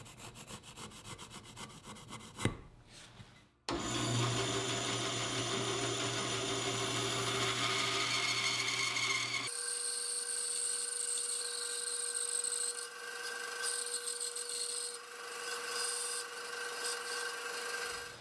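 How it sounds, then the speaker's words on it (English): A bandsaw cuts a wooden spoon blank along a gentle arc, giving a loud, steady rasping whine that starts abruptly and holds for about fifteen seconds, with the pitch shifting as the cut goes on. "The next cut will be on the bandsaw"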